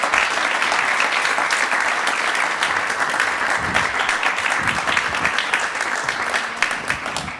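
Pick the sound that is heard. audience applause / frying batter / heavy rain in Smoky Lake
audience applause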